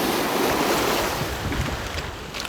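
Ocean waves surge and crash against a rocky stretch of the British Columbia coast, a loud, continuous roar of churning surf close by with wind buffeting the microphone.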